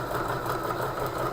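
A sewing machine stitching fabric for half-square triangle quilt blocks, a brief steady close running hum with no voices.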